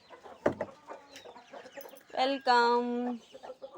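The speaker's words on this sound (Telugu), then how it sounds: "ఇందులో కోడి పిల్లలు ఉన్నాయి, తీసేద్దాము" Chicks held in a container give a couple of clucking, drawn-out calls close by. A short spoken word comes just before them.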